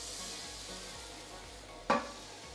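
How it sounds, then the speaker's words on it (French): Coca de fira, a Spanish flatbread, sizzling and starting to burn in a frying pan, a steady low frying hiss with one sharp clatter near the end; no one speaks. "ça c'est en train de cramer."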